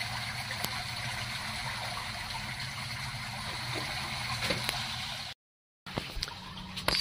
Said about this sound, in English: The only noise is from the water swishing by at 8 kilometers an hour